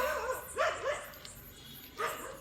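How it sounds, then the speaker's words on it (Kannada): Dogs barking near a house: a few sharp yips and barks come in two bursts, fairly faint against quiet background. "ಬದಲು ಅದಕ್ಕೆ ನಾಯಿಗಳು ಬೊಗಳ್ತಾ ಇದೆ."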